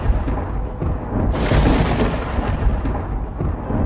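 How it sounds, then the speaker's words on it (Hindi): Thunder cracks and rolls during heavy rain, a sudden loud burst that fades into a long rumble, with no voices. "आसमान में बिजली कड़क रही थी।"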